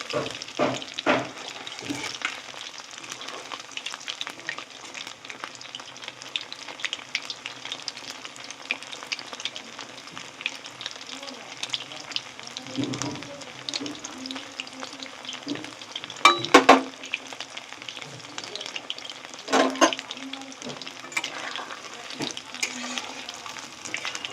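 Steady crackling sizzle of chicken pakora deep-frying in hot oil, with occasional louder bubbling bursts and clatters, continuous throughout without speech.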